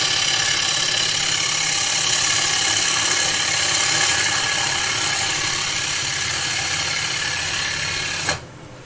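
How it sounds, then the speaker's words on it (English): A wood lathe spins a plate at 1000 RPM, giving a steady, loud mechanical hum and whir that runs unchanged for several seconds, then stops abruptly near the end. No one speaks. "And now spin it about 1500 RPM, and I can just move the gouge that bit quicker."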